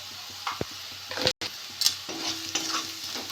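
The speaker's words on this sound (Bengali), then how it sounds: "পেঁয়াজটা একটু ভেজে নিয়েছি।" Onion with green chillies and salt frying in a pan for a small-fish chorchori, a soft broadband sizzle broken by a few sharp utensil knocks and scrapes and one brief dropout, close and moderately loud.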